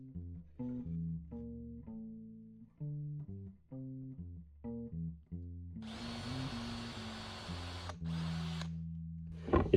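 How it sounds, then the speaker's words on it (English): A series of short, stuttering power-drill bursts on wood are followed by a long, steady, noisy drilling run through a hole into a spoil board, all heard up close. A few clicks sound at the end. "It's important you always use a spoil board when drilling holes"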